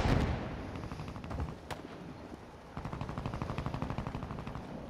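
Gunfire in the video game Call of Duty: Modern Warfare II, rapid automatic bursts crackling in a rattling rhythm amid a noisy battle ambience, moderately quiet and somewhat distant.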